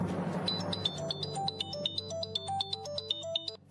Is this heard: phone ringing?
yes